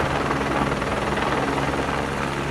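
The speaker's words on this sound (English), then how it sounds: "This helicopter doing a nosedive." A helicopter in a nosedive gives a loud, steady rotor roar and thumping that fills the whole short stretch without letup.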